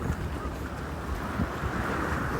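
Steady wind blows at a La Union beachfront, a continuous broad rushing roar with buffeting against the microphone and a faint wash of surf underneath.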